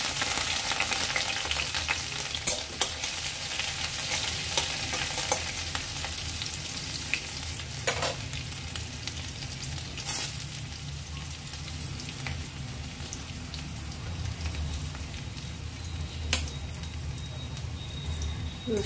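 Garlic and dried red chilli fry in hot mustard oil in a pan, giving a continuous soft sizzle with occasional sharp crackles and spatters, close by and with no talking.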